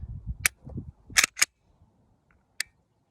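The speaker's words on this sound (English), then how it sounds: "if you want to hear the reset on this trigger" A Smith & Wesson M&P 2.0 9mm pistol being handled, with low handling rustle and then a few sharp, short clicks of the trigger resetting. The clicks are fairly close, and the last one stands alone after a quiet gap.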